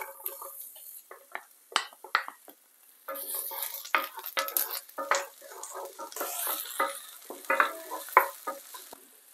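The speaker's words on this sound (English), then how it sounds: "To my skillet, I'm gonna add a pinch of olive oil. Now I'm gonna add the onions." Chopped onions fry in olive oil in a skillet, the start of a Jamaican-style vegan coconut curry chickpea dish. A close, steady crackle and sizzle is broken by sharp utensil taps and stirring scrapes, with no talking.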